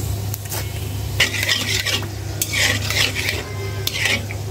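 Panch phoron spices fry in mustard oil for a sweet-sour olive pickle, with sharp bursts of a metal spoon scraping and clinking against the pan over a low, steady hum and a faint sizzle.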